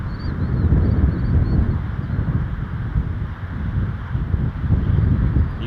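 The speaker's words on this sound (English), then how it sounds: "The wind is definitely picking up." Strong wind blows across the open ground at Toronto Pearson Airport, a loud, continuous low roar of gusts buffeting the microphone, with no voices.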